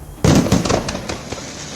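Firecrackers burst during Diwali celebrations in Delhi, a loud sharp crackling onset followed by a dense rattle of pops and bangs that fades into a sustained crackling background.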